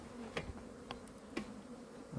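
Honeybees buzzing on a hive frame behind the divider board in an open beehive, a faint, low and steady hum with a few brief, slightly louder passes close by.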